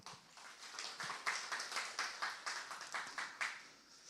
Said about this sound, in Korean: 우리 이분들 박수로 격려합시다.